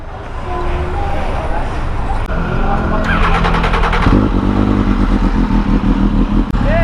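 A motorcycle engine idles and revs nearby, loud and steady, with a rattling burst in the middle and voices faintly underneath.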